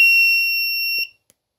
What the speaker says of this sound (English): These lights start blinking, buzzer goes off